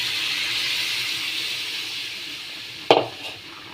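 Water poured into a hot pan of sizzling shrimp and greens sets off a sudden loud burst of hissing steam, which flares and then fades, over a steady background sizzle of frying.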